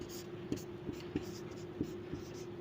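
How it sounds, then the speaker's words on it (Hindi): Chalk scratches and taps on a board in faint, irregular strokes, heard close alongside a soft, hushed voice. "यहाँ पे लिख देते हैं"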